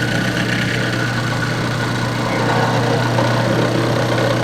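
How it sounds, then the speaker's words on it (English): A drill press runs with a steady motor hum and whir as it drills into a workpiece, a continuous close mechanical drone with a slight rise in load partway through. "Switch on the drill and begin drilling."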